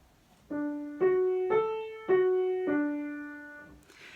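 A single voice sings five short sustained notes stepping up then back down in an arpeggio pattern, clear and close, followed by a brief breath.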